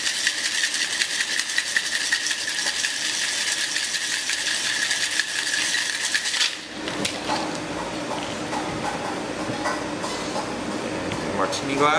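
Ice rattling hard inside a cocktail shaker as a steak-house cocktail is mixed, a loud steady rapid clatter for about six seconds that stops abruptly, followed by quieter handling clinks.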